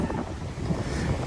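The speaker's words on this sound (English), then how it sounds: "It's quite windy today, by the way, so if you're wondering what's going on with the pool water, wind advisory." Strong wind at the Aventura Hotel pool buffets the microphone in a steady, loud broadband roar with no pauses, and nobody talks.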